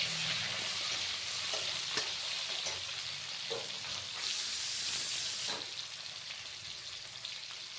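Chopped tomato with cumin seeds sizzles loudly in a hot pan, a continuous hissing fry with occasional scraping strokes of a stirring spoon, the sizzle easing slightly toward the end.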